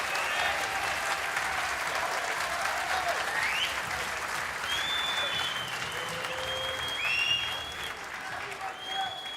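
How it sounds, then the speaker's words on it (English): A snooker crowd at Alexandra Palace gives a standing ovation during the 2024 World Snooker Championship, with dense sustained applause filling the hall and a commentator's voice faintly over it. "he gets a standing ovation from this alley-pally crowd"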